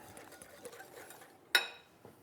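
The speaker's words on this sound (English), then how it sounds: "Now we just mix this up." Raw Korean beef tartare (yukhoe) dressed with lemon juice is stirred in a bowl with a utensil: soft, close scraping and mixing with one sharp clink against the bowl partway through.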